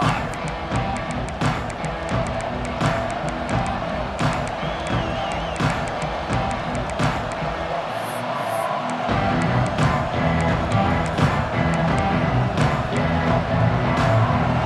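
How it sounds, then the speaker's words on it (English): A big football stadium crowd roars steadily before kickoff of an Alabama versus Florida Gators game. A dense wall of cheering and whooping runs throughout and swells toward the end. "This crowd ready to make its presence known."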